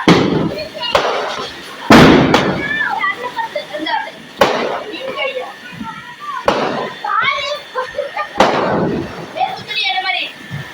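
Sharp firecracker bangs burst out every second or two amid lively talk and children's voices, some pops loud and close, others echoing nearby.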